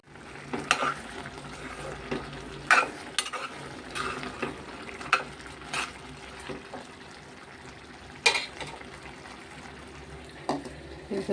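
Home-style curry frying in a pan, with a constant low sizzle broken by repeated sharp scrapes and clicks of a spoon stirring against the pan, close and fairly quiet, without speech.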